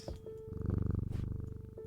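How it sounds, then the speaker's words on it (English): A cat purring in the video game Strange Antiquities, a close, loud, rhythmic rumbling purr that pulses steadily for about two seconds with a soft tonal chirp near the start and end. "is that a cat?"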